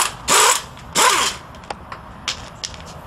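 An air impact gun removes the top three engine bolts in two loud, short bursts of whirring hammering, each about a quarter second, followed by a few faint clicks and taps.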